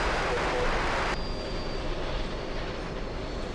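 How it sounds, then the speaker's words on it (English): A Boeing 747 jet airliner flies overhead near the airport as a steady, broad engine roar that holds at a fairly constant level throughout, with faint radio-style voices underneath. "So that 747 is flying to Tel Aviv."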